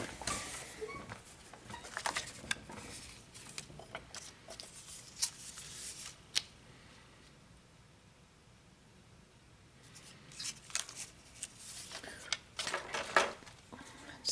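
A paper image for a handmade Christmas card is trimmed down, giving quiet, close scrapes, snips and rustles in scattered clusters separated by a calmer stretch.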